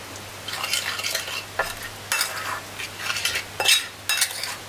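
Beef being mixed by hand with oil and soy sauce in a bowl for beef chaap, giving soft wet squelching and stirring sounds in repeated bursts, close and alone against a low steady hum.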